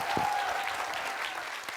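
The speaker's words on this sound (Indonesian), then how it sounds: "Kita kasih tepuk tangan sekali lagi." A studio audience at a comedy show applauds in a steady, dense round of clapping that fills the whole stretch, with faint voices mixed in.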